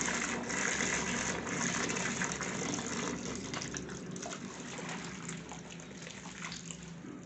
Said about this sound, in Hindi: पानी थोड़ा सा गिराते हैं ताकि झाग अच्छे से निकल जाए।